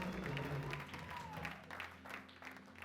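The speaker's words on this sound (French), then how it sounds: "Est-ce qu'on peut acclamer pour la chorale que Dieu nous a donnée?" Congregation applauding the church choir, a soft wash of scattered clapping from a crowd, faint and steady throughout, with a voice speaking over it.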